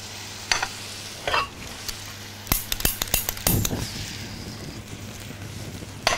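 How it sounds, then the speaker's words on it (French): Crêpes Suzette are flambéed with Grand Marnier in a coated aluminium pan over raised heat. A low hiss and sizzle runs throughout, broken by a rapid cluster of sharp clinks and scrapes partway through. "On va augmenter un petit peu le feu et ensuite on va pouvoir flamber au grand marnier."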